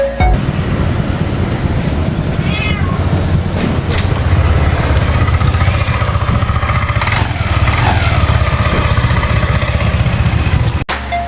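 Yamaha NMAX/Aerox scooter engine running after an error 12 CKP sensor repair, a steady low idle hum throughout, close and loud, with faint clinks in the background and a sharp knock near the end.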